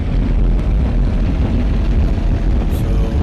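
Light aircraft engine in a VR flight sim, throttled up for takeoff on the runway: a loud, steady, droning roar that fills the whole stretch with no break.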